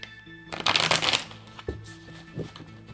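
Tarot cards being shuffled by hand, a riffling, papery flutter in a loud burst of roughly half a second, then softer taps and settles, close up with no talk.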